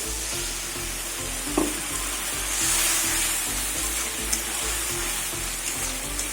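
Water from rinsing a sweet bowl poured into a hot frying pan of poppy seed curry, giving a loud, steady sizzle and hiss throughout with a couple of brief knocks.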